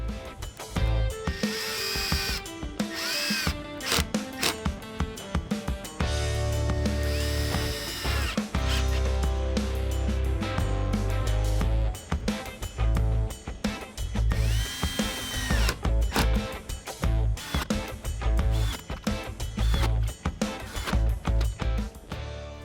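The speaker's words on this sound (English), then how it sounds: "Pre-drilling all the holes." A power drill whirs in repeated bursts, revving up and down as it pre-drills holes in plywood, loud and close with short pauses between holes.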